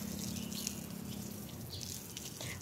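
Water splashing and trickling while plants are watered around a house and shop in the morning, a soft, steady patter running for a few seconds with no talk over it.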